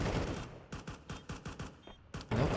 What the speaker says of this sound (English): Do you know where that AK is coming from?